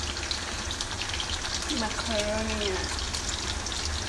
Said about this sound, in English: Then now I took it out and I'm deep frying it.